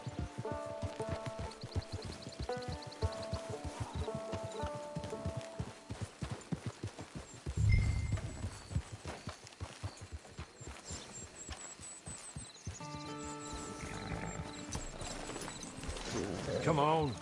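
Horse hooves clip-clop steadily in the Red Dead Redemption 2 video game, fairly quiet beneath game music and occasional talk.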